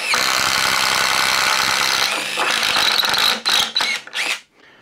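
A DeWalt Flexvolt stud and joist drill, an impact driver with a 3/4 inch bit, runs loud and steady for a few seconds, then bites in short, uneven bursts before stopping abruptly.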